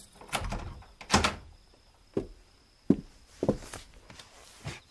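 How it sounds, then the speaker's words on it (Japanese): A door in a quiet room is handled and shut, then the lock is set: a series of separate wooden knocks and clicks, close by, with short pauses between them and no voices. "では、奥さんのご安心のために鍵をかけておきましょう。"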